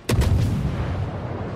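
A full salvo from a warship's main guns in World of Warships: a loud, deep booming blast at the start with a rolling low rumble that carries on to the end.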